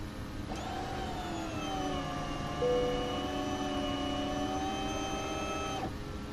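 King Air 350 twin turboprop engines climbing out in FSX, a steady droning whine with sustained tonal hum that swells in at the start and holds evenly, no talk.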